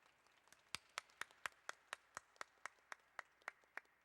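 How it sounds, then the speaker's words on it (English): Clapping at a city hall heritage-month announcement comes as an evenly spaced run of about fifteen crisp, close claps, sounding more like one steady clapper than a full crowd, with no speech. "Let's give them all a big round of applause."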